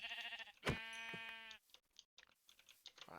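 Sheep in the Minecraft 1.19 video game lets out a single clear, harmonic bleat, loud and near, with faint clicks before and after it.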